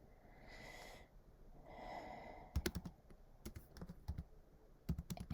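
Computer keyboard typing arrives in quick, close clusters of crisp key clicks with short pauses between bursts, following a couple of soft breathy sounds at the start, all quiet and without any talk.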